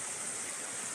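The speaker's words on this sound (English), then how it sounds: "Listening to the river flow." A river flowing with a steady, broadband rush of water that holds constant throughout the short stretch, with no voices over it.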